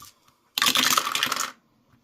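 A handful of dice of mixed sizes, including six-sided and eight-sided ones, rattles and clatters across a table in one burst of about a second, close and fairly loud.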